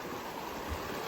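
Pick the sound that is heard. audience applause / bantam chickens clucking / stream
stream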